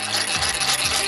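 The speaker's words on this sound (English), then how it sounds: "when Johnny cranks that handle, it should produce enough power to light it" The handle of a hand-cranked DC motor dynamo is turned to power a light bulb, making a brief rough rubbing whir that rises and falls with each turn.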